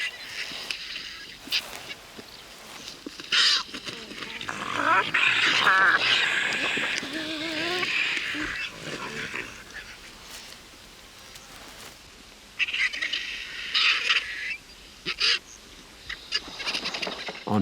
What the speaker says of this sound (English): the romp is interrupted by the calls of vultures as they circle and land in a nearby clearing